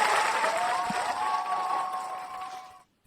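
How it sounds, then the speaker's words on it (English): Crowd cheering sound effect, a dense roar of applause and whoops with a sustained tonal whistle-like layer, loud and steady before cutting off abruptly near the end. "I'm going to give him a cheer."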